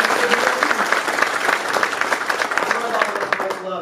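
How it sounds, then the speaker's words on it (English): Breakfast crowd at a membership meeting in a restaurant gives a sustained round of applause for the staff, dense steady clapping from many hands throughout, close and fairly loud. "Great round of applause for our staff here at Petrozella's."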